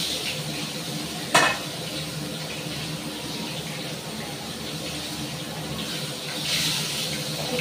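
Snakehead fish head frying in oil in a hot, smoking wok, a steady sizzle that runs throughout, with a sharp clatter of a utensil against the pan near the start.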